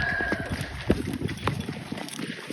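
A horse jumps, its hooves giving a few scattered clip-clop thuds at close range over a steady background hiss.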